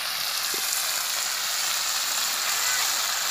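Ground cumin paste sizzles steadily as it is sautéed in a pan, a constant bright frying hiss that stays even and close from start to finish.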